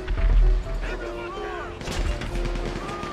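Gunfire erupts during an attack on a military base in GTA 5, with loud booming shots and bursts at the start and again partway through, layered over game sounds with whistling, sweeping tones.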